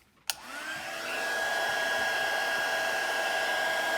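A heat gun clicks on and spins up into a steady blowing whir with a high whine while warming a Galaxy Tab 3 tablet's frame to loosen the cracked screen, close and continuous.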